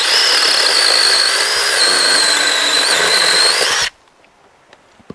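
A Troozy 6-inch cordless electric chainsaw cuts through softwood firewood at an off-grid cabin, its loud, steady high-pitched motor whine running for about four seconds before cutting off abruptly, followed by near silence and a few small knocks.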